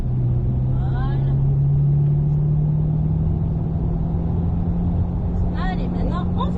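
A car accelerating hard around the Mettet race circuit gives a loud, continuous engine drone close by that climbs slightly in pitch, with faint chirps over it.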